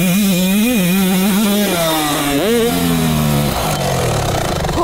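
Stock Austrian dirt bike engine while riding at a supercross school, a loud, close buzzing two-stroke-like drone that rises and falls in pitch with throttle changes before settling lower near the end.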